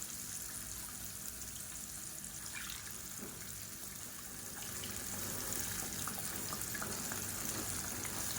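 Faint running water splashes and trickles continuously as a mixer jar is rinsed out, with no voices.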